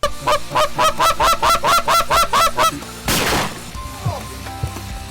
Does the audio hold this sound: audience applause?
no